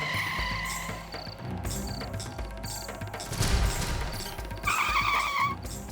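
A cartoon car brakes to a stop with a loud skid and a tire squeal that swell in the middle, over light background music and sound effects in a comedy animation.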